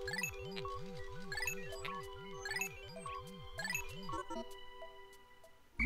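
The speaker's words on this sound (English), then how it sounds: "Oh, it's a warp cicada warp sound." Electronic warp cicada effect from the Pikmin 2 video game: a steady, clear repeating warble of about a dozen rising-and-falling pulses, over layered game music that carries on after the pulsing stops.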